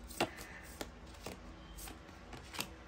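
Tarot cards shuffled and drawn by hand, a run of soft papery flicks and slaps at irregular intervals, fairly faint and close, with no talking.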